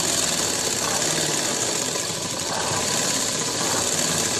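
A sewing machine hemming the edge of a dhoti salwar hums in a loud, continuous motor drone, unbroken and close throughout.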